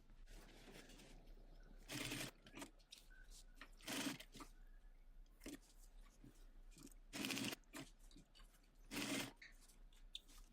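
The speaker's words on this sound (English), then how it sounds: "Now I'm going to head over to my sewing machine, and using a 1/4 inch seam allowance, I'm going to baste these handles on." A sewing machine basting handles onto a bag at a quarter-inch seam allowance, heard as several short, quiet bursts of stitching separated by pauses and soft handling noise.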